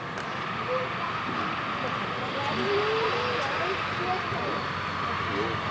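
A vintage Curtiss Jenny biplane flies at an air show, its engine a steady, fairly distant drone under a wash of crowd and wind noise, while a commentator speaks over it.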